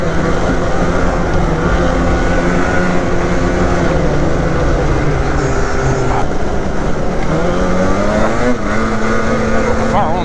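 A 2021 Polaris Assault 850 146 snowmobile runs steadily on a bumpy treed trail in New Hampshire, its engine drone loud and close throughout with slight pitch shifts, and someone talks over it.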